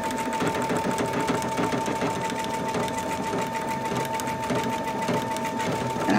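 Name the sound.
sewing machine stitching a paper pieced quilt seam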